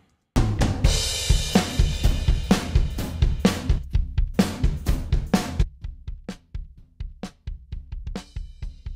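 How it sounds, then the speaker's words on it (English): Kick and snare drum tracks play together in a rock mix with parallel bite processing, a punchy steady beat of close, sharp hits, loud at first, then quieter and sparser. "That's what we hear with the kick and the snare right now."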